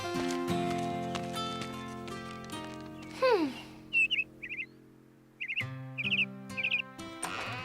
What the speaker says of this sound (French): Bonjour, petit oiseau.